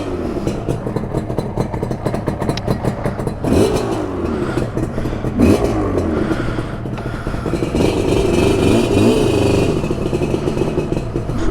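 A 1981 Yamaha RD350 LC two-stroke motorcycle engine revs up and down close by, with rising and falling surges over a raspy, buzzing idle and no talk.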